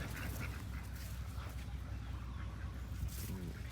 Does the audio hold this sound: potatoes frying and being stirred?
no